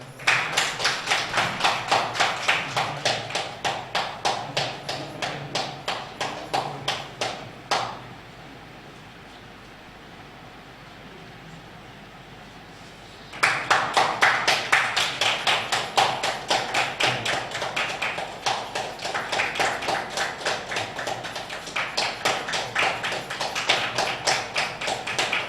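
Rapid rhythmic clapping from an audience at a stage event honoring a guest with a shawl, loud and sustained in two long bursts separated by a quiet pause of about five seconds.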